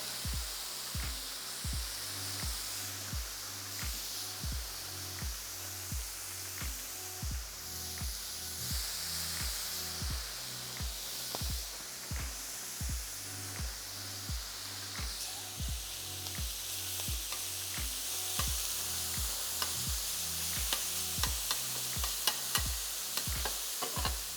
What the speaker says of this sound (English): Our beef's been in the marinade for about 20 minutes now, and it's looking good. We're going to throw that on there.